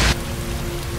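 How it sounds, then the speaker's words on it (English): In the video game Heavy Rain, a heavy downpour patters steadily on surfaces after a brief louder burst at the start, with no speech. "Heavy rain. It's been the same for weeks."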